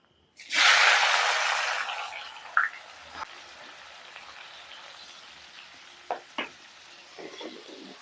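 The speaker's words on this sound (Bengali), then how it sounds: "পেঁয়াজটাকে ভালো করে লাল করে ভেজে নেব" Onions dropped into hot oil in a wok burst into a loud sizzle that gradually settles to a softer steady fry, with a few clanks of stirring and scraping afterward.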